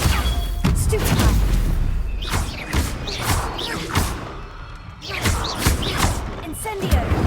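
A Stupefy spell cast in a video game, a string of heavy thuds and crashing impacts over several seconds amid noisy combat, with a voice calling out in between.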